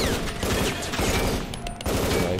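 A shotgun fires repeatedly in the video game M.A.R.S., loud close blasts in a rapid, crackling barrage over a busy background of game noise, with no pause between bursts.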